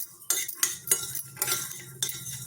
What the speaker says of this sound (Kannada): ಒಂದು ಚಮಚ ಅಷ್ಟು ಎಳ್ಳನ್ನು ಹಾಕ್ಕೊಂಡು ಅದ್ರ ಜೊತೆಗೇ ಹುರ್ಕೊಳ್ಳೋಣ